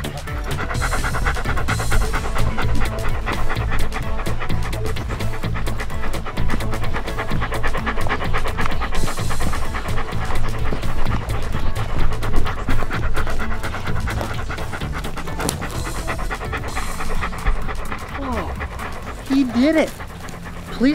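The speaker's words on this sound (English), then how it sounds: "send in the canine" A police dog pants rapidly and steadily, close and loud, with quick rhythmic breaths throughout and a brief whimper near the end, over a lively background of music and voices.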